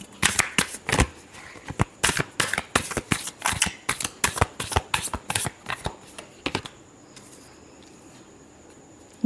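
A deck of tarot cards riffle-shuffled repeatedly up close, a brisk series of crisp fluttering bursts in steady rhythm that stops partway through, leaving near silence.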